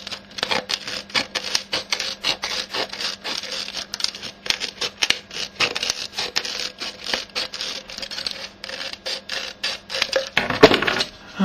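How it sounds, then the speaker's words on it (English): Rapid, dense snipping and crisp scraping of scissors cutting through a paper label, steady and close, with a short louder rustle near the end. "take the scissors and go up and cut right to the edge of the label"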